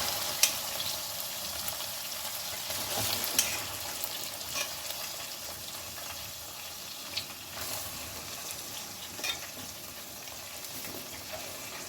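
Chicken liver frying in a pan, a steady broadband sizzle with light stirring clatter and occasional pops, close and continuous with no talk.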